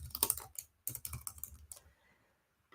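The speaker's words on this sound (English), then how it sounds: "This is why no one wants to watch you type, Laura." Quick bursts of typing on a computer keyboard during a UI design session, close and crisp, with uneven clusters of clicking keys separated by short pauses.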